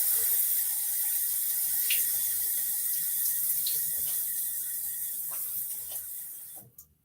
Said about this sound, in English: get some water on my face